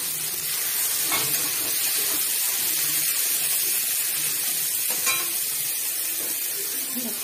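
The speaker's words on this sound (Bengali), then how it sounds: "এটা একটু লাল লাল করে ভাজা হবে।" Onions fry in a pan until reddish-brown, a steady close sizzle running throughout with a few soft clinks of stirring and no talk.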